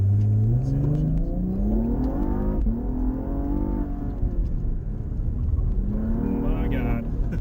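A Cadillac ATS-V sedan accelerates hard down a drag strip, its engine note climbing steadily through the gears with brief dips at each shift, loud and close throughout.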